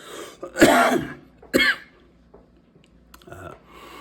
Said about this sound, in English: coughing fit's coming